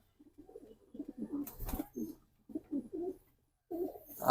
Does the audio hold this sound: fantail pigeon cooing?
yes